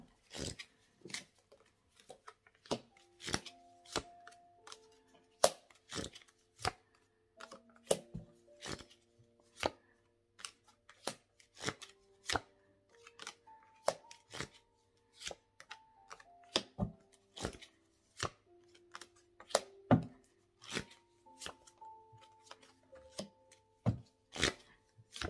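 Tarot cards being shuffled and laid down one by one on a table, sharp isolated taps and soft slides at irregular intervals, close and quiet, with faint speech in the background.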